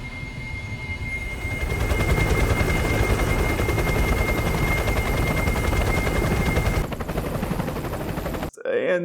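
A helicopter in the video game Metal Gear Solid keeps up a steady, loud rotor chop and engine whine that holds for several seconds, then breaks off abruptly near the end.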